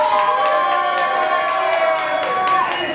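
A comedy show audience cheers and claps in a loud, steady wash of crowd noise with whoops, lasting a few seconds without a break.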